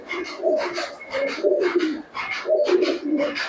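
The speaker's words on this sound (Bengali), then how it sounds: "এখনও তোমাদেরকে কিছু গিরিবাজ কবুতর দেখাতে হবে" Giribaz pigeons coo close by in a steady series of soft, rolling calls that overlap and repeat without a break.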